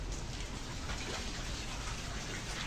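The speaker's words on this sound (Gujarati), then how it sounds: "વરસાદ ચાલુ છે" Rain falls in a steady, even wash of soft hissing noise, moderately distant, with no voices.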